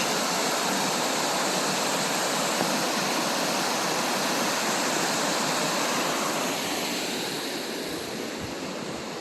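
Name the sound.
small river rapids seen from a bridge, Killarney Provincial Park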